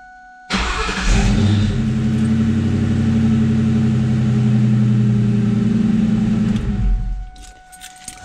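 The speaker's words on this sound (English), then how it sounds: "just go ahead and start up the vehicle" A 4.6-litre engine in a 1996–2004 Ford Mustang with a newly fitted starter cranks briefly and catches, then idles steadily and loud up close for about six seconds before shutting off.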